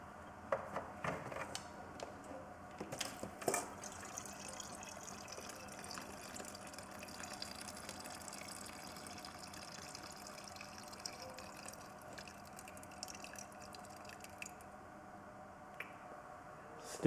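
Fuel draining out of an off-road pocket bike into a container, a steady liquid trickle and splash with occasional clanks and knocks from handling, close by with no talking.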